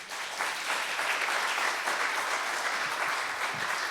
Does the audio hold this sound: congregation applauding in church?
yes